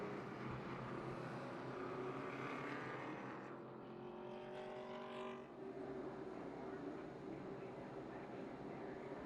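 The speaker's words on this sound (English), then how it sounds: "Everybody driving off pit road." ARCA Menards Series East race cars pull off pit road at Dover International Speedway, a steady loud roar of several engines with rising and falling pitch as the cars accelerate past.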